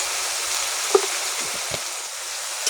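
Potatoes and malabar spinach seeds stirred in a hot pan, with an even, close sizzle throughout and a few light spoon knocks against the pan, no talking.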